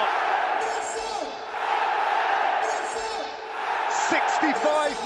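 A football stadium crowd at Napoli versus Real Madrid roars and swells in waves, with a commentator talking over the noise.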